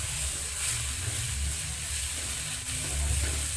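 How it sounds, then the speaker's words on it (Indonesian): Steady sizzling of spice paste sautéing in hot oil for a tofu dish, a continuous hiss with soft crackles and a low background hum, no voices. "Tumis bumbu hingga benar-benar matang supaya enggak langu."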